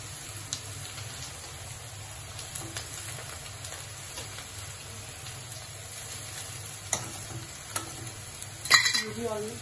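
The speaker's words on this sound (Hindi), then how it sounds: "अच्छे से मिक्स कर लेंगे।" Chowmein noodles are mixed in a pan over low heat, with soft intermittent scrapes and clinks of a utensil against a quiet sizzle, ending in a louder clatter.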